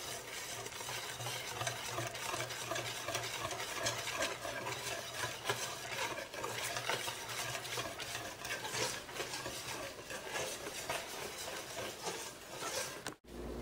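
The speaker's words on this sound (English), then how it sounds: "I'm going to take the 4 yolks, put them into the chocolate mixture, and just whisk them until they're incorporated" A whisk scrapes briskly and rhythmically through a thick mixture of egg yolks and chocolate in a bowl, with a soft, steady texture, close up and with no voices.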